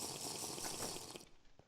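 Water gathered in a Minecraft-style survival crafting game, a steady close gushing pour that runs for over a second, then cuts off, leaving a few faint drips.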